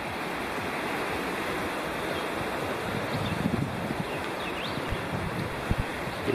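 A river rushes near a backpacking campsite at Walnut Bottoms in the Great Smoky Mountains, a steady broadband roar of flowing water close by with faint wind buffeting and occasional small knocks.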